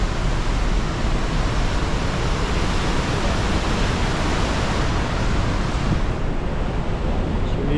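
Athabasca Falls thunders in a loud, unbroken roar of rushing water that holds steady and close throughout, with wind buffeting the microphone.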